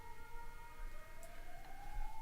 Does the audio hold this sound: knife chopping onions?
no